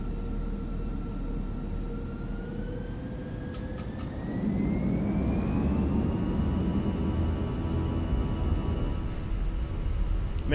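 Fenix A319 jet engines spooling up to takeoff thrust in MSFS 2024, a steady roar with a rising whine that climbs in pitch and loudness, then holds at a high, even drone.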